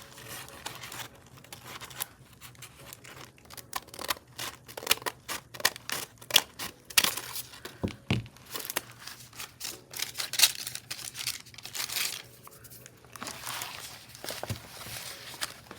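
Paper being trimmed for a flip flop journal, with repeated close crinkling and crisp cutting snips in an irregular rhythm, alone without talk.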